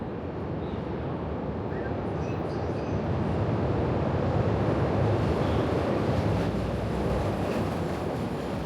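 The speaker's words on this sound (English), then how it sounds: "You ready for your train ride, Gert?" A steady, loud rumble from riding aboard a moving train in Chicago fills the whole stretch, a continuous low-frequency roar with faint rattling, no clear talk.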